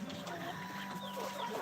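Chickens cluck and murmur in a yard in Nueva Ecija, a few short clucks close by against a busy outdoor background.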